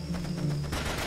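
Rapid bursts of gunfire in the shooter game Raven Squad crackle at moderate distance, as a dense short volley that picks up toward the end.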